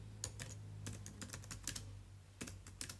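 Quick keystrokes on a computer keyboard as a title is typed, sounding as irregular clusters of taps over a steady low hum, with no one speaking.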